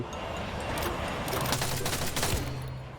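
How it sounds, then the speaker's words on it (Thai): Gunfire in the mobile shooter Free Fire, a dense, sustained rattle of rapid shots heard continuously and fairly loud, with no clear gaps between them. "ผมว่ามันยิงอยู่ด้านบนแน่เลยว่ะ"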